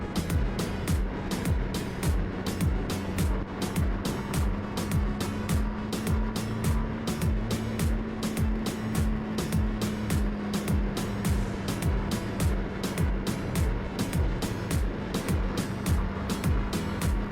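A Bajaj Dominar 400 motorcycle rides along a rural mountain road, its engine holding a steady, loud drone at constant pace, with a rapid pulsing beat running through the whole stretch and no talking.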